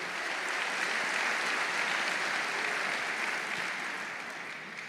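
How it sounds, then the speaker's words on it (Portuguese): A church conference audience applauds warmly, a dense and sustained roar of clapping that holds steady throughout and tapers slightly at the close. "Aplauda esse povo maravilhoso."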